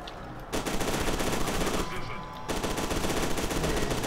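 Sustained automatic gunfire in F.E.A.R. 2, rapid dense bursts filling most of the clip with one short lull in the middle, loud and close.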